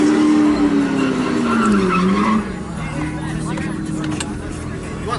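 Nissan GT-R with about 630 horsepower to the wheels launching hard off the line, tires skidding and squealing loudly over a rising engine note for the first half, then the roar easing into a steadier drone, with a voice speaking over it.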